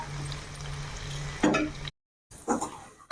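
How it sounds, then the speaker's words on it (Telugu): Chicken fries with curry leaf masala in a pan, a soft sizzle with close stirring and scraping that stops briefly and then resumes. "మూడు నాలుగు భాగాలుగా వేసుకుంటా ఫ్రై చేసుకుంటా ఉంటే ఈ ఫ్లేవర్ అనేది కరేపాకు ఫ్లేవర్ బాగా ముక్కలకు పట్టిద్దనమాట"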